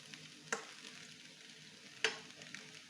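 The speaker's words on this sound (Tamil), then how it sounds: "ஒரு 2 மினிட்ஸ் அவல் போட்டு மெதுவாக கிளறி விடணும்." Poha, flattened rice, is stirred slowly as it fries in oil in a pan, giving a faint continuous sizzle with a few sharp scraping knocks of the spoon against the pan.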